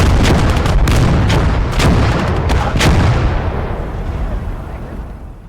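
Heavy artillery fire from the World War II game Gates of Hell booms loud and close in repeated blasts, each rolling into a rumble that slowly fades, with voices mixed in.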